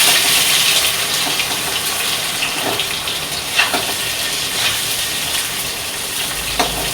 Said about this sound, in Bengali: কড়াই গরম হয়ে গেছে, দিয়ে দেবো জিরে আর তেজপাতা